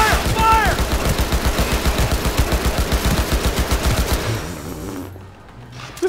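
Loud, sustained automatic gunfire in the game Cyberpunk 2077, a dense, continuous stream of shots that carries on for several seconds before dropping away into quieter game ambience.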